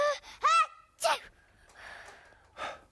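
A voices a dramatic sneeze, with gasping intakes building up to a sharp burst and a softer breathy trailing sound after, close and clear.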